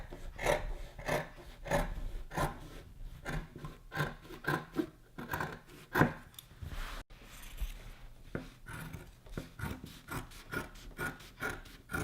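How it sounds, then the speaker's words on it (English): Scissors cut through lining fabric for a maxi dress, giving a steady series of soft rasping snips and fabric rustles, close and fairly quiet, with no voices. "So we'll just lay out some pieces and we'll just cut out that same shape."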